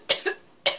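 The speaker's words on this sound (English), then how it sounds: "I know I shouldn't have to be sorry for my coughing." Two sharp coughs close together, followed by a third after a short pause, close to the microphone and with no talking.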